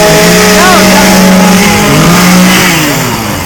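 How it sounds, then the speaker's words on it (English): A gas-powered chainsaw without a blade, its engine revving loudly and close, pitch rising and falling in sustained tones with a person talking over it. "there might not be a blade on there, but it's a real chainsaw"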